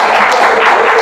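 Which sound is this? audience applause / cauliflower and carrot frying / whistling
audience applause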